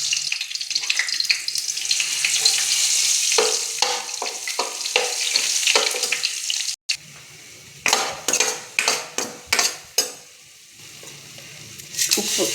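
Ground masala paste sizzling and frying in a hot kadai with cinnamon, for crab masala, a steady loud hiss broken by spoon stirring and metal scrapes against the pan, with short bursts of sizzle toward the end.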